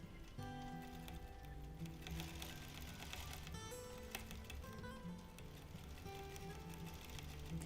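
A sewing machine free motion quilts a stretchy topographical map quilt, its steady rapid stitching hum running continuously and fairly quietly under background music.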